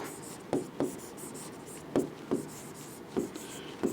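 A pencil writes on paper and boxes in a block, with a few crisp scratchy strokes in clusters over faint room noise, and no voices.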